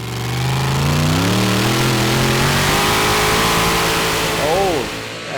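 The Hella Lambada pulling tractor from Holland roars loud and close at a Eurocup tractor pulling event in Brande, Denmark, its engine climbing steadily in pitch through a long sustained pull, then briefly revving and fading near the end, with commentary speech under the noise.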